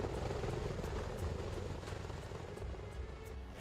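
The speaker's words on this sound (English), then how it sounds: "This is the Bell Boeing V-22 Osprey, a hybrid aircraft that can take off and land vertically like a helicopter" A Bell Boeing V-22 Osprey tiltrotor aircraft flying, giving a steady faint rotor and engine roar that drones on without a break.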